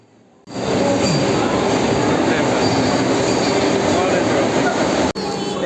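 A Vande Bharat express departs a railway station in a loud, continuous roar of wheels and rails that starts suddenly, steady rumbling and clatter filling the carriage with a short dip just before the end.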